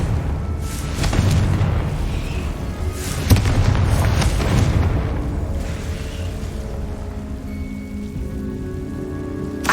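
Confringo fire spell from Hogwarts Legacy going off, with deep rumbling booms and crackling bursts over a noisy, rain-like hiss, the strongest blast near the middle.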